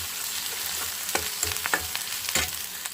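Masala for a fish curry fries in a pan with a steady close sizzle, broken by a few sharp spatula scrapes and taps, short and without speech.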